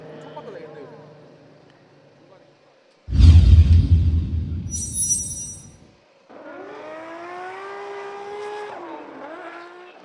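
Formula Drift car on throttle during qualifying at Fuji Speedway: a sudden loud, rasping engine blast with tire noise lasting about three seconds, then another engine revving up and down at a distance, under steady commentary.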